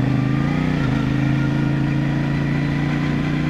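Saturday street traffic idles close by, a steady low engine drone from cars and motorcycles, with one brief dip in pitch near the start.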